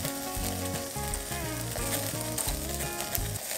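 Pork belly frying in a pan, rendering its fat with a steady, close crackling sizzle, set against background music with no talk.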